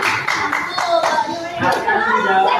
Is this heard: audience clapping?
yes